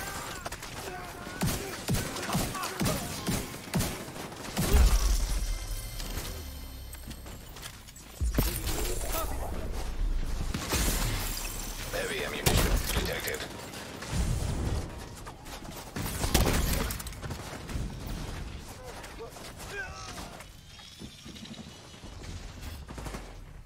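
Gunfire in the video game The Division 2 crackles in repeated bursts and single shots, some near and heavy, with other game noises and brief voices between them.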